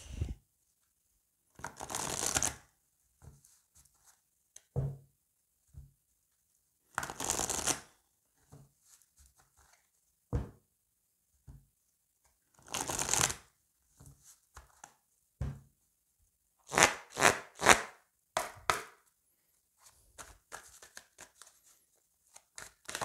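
Oracle cards being shuffled by hand, several separate bursts of riffling and flicking spread across the stretch with quiet gaps between, fairly close and with no talking.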